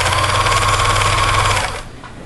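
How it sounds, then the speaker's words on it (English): A sewing machine stitches a side seam on a handmade appliquéd top, a loud, close, rapid mechanical whir that runs steadily and then stops near the end, leaving a quiet hum. "We're going to be sewing the side seams and finishing up the sleeves and the hem."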